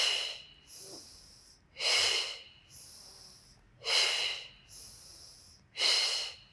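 A Pilates student breathes through a beginner core exercise: four strong, forceful exhales through the nose and mouth in a regular rhythm, with quieter inhales in between, close and clear.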